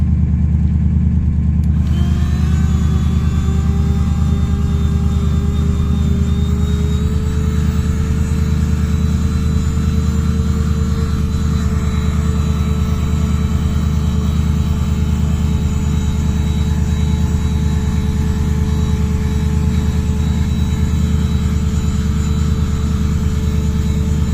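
A cheap cordless car vacuum cleaner from AliExpress switches on after about two seconds and then runs continuously, its motor giving a loud, steady whine and hum with no breaks and no talking.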